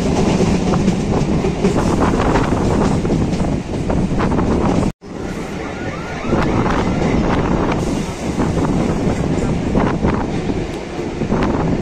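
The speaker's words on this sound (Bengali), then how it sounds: "ট্রেন ছেড়ে দিল কল্যাণী থেকে" A local train on the Sealdah to Ranaghat line, just departed Kalyani, runs loud and close with continuous rumble, wind buffeting and clickety-clack, briefly cutting out midway before resuming.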